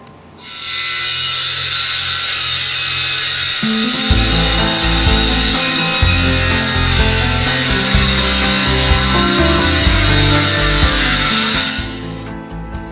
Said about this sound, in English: a flat surface to run her circular saw down